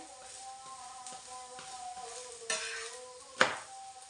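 A bell pepper paratha fries in ghee on a pan with a quiet, steady sizzle, punctuated by two sharper scraping clinks from a spatula as it is turned.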